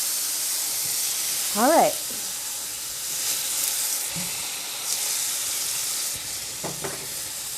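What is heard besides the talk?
cheeseburger patty cooking on a hot surface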